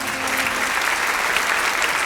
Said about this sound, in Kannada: ರಾಮಚಂದ್ರ ಹಡಪದವರ ಮೂಲಕ ಒಂದು ಜೋರಾದ ಚಪ್ಪಾಳೆ.